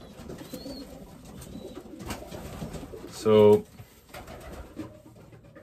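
Racing pigeons coo softly in the background while someone talks nearby, with a short loud burst from something closer partway through.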